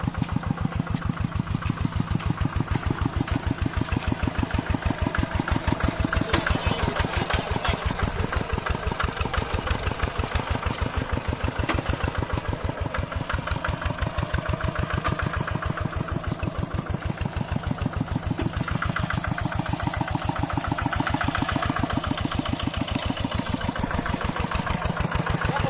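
A tractor engine plows a rice paddy with a steady, close chugging pulse that runs unbroken from start to finish, with no voices over it.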